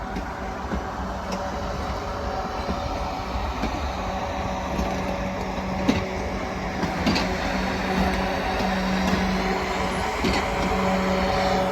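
Trains at Clapham Junction on the South Western Main Line: a sustained rumble of rolling stock with steady tonal hums and occasional clanks, continuous and fairly close throughout.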